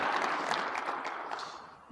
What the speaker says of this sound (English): so I'm applauding for Fadi